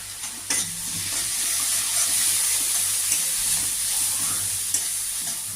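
Ground spices with turmeric and Kashmiri chilli fry and get stirred in a pan for a mustard-poppy-seed prawn dish, a loud continuous close sizzle with scraping spatula strokes and a few clinks; no talking.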